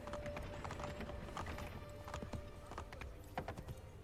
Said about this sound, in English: Let's hop on this horse